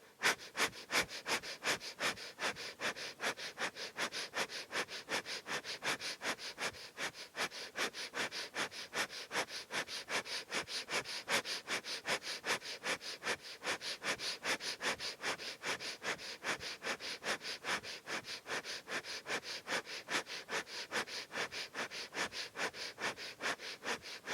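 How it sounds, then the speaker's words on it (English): Breath of fire, a yoga practice of rapid nasal breathing, sounds as fast, evenly spaced sharp sniffs through the nose. The bursts repeat without pause for more than twenty seconds, close and steady, with no talk. "and breath of fire"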